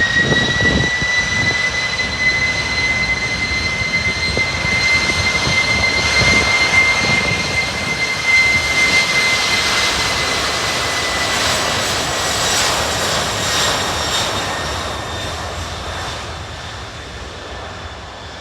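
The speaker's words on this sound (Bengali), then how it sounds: "দেখুন উঠতে থাকতেছে বিমানটি" A passenger airplane takes off at Penang Airport, Malaysia, its jet engines roaring loud and steady with a high whine, then slowly fading as it climbs away.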